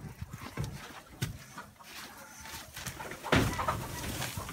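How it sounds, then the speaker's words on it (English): Chickens inside a trailer coop give faint, scattered clucks and rustling, with one louder burst of activity near the end and no one talking. "We do got chickens in here, so it might get a little noisy."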